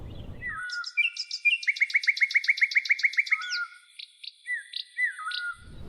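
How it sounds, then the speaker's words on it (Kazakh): A cartoon sparrow chirps sweetly in quick, bright trills, a dense run of rapid repeated notes followed by a few separate chirps, clear and close with no talking. "Торғай өзіне назарын аудару үшін сүйкімді үнмен шырылдай жөнелді."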